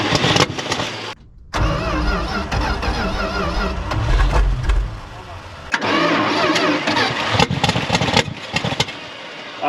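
Old Dodge D600 truck, left sitting for over 23 years, cranking in rough uneven bursts and then catching and running loudly up close with ragged firing, while people talk over it.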